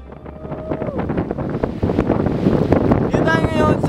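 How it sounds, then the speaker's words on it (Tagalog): Strong wind gusts buffeting the microphone at the Bangui windmills in Ilocos Norte, a loud steady roar with voices talking over it. "Sarap ng hangin dito, no?"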